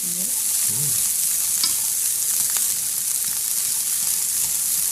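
Carrots stir-fry in oil for Cantonese fried rice, a loud, steady sizzle with occasional scrapes and clanks of the spatula against the pan, close and continuous.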